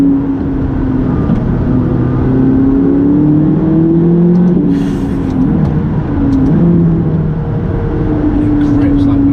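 A McLaren 570GT is driven on the road, its engine running with a steady loud drone and shifting pitch as it revs, while people talk inside the car.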